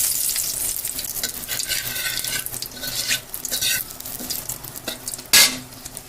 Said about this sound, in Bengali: এখন ছানা ভাজার তেলেই আমি জিরা ফোড়ন দেব